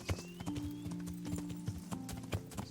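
Horse hooves clip-clop in an irregular, quick rhythm as a mount climbs a wooded hillside in Kingdom Come: Deliverance, close and fairly loud with faint game ambience beneath.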